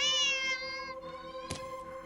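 A cat in the horror video game Don't Take This Cat Home gives a long, drawn-out meow while being held, loud and close, trailing off and then followed by a short noisy scuffle.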